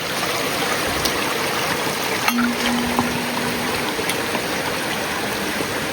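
Steady wash of stream water flowing over a hiking trail crossing, constant and moderately near with no voices.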